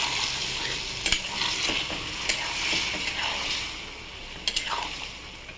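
A spatula stirs ridge gourd poppy-seed curry in a pan after water goes in. A steady wet sizzle is broken by a few sharp scraping clicks, close and moderately loud, with no voices.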